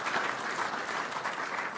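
An audience at a church annual general meeting applauds, a steady, dense wash of clapping from many hands that holds at even volume throughout, moderately distant and without speech over it.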